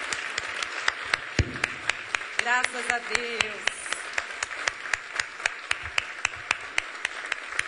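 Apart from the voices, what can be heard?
church congregation applause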